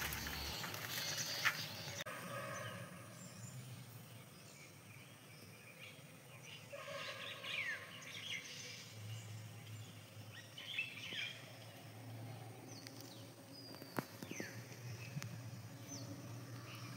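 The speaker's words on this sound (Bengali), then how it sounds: "সকালবেলা পাখির একটু কিচিরমিচির শুনতে বেশ ভালো লাগে" Birds chirp and tweet intermittently, faint and somewhat distant, across a quiet foggy winter morning in a village, with scattered calls over low background ambience.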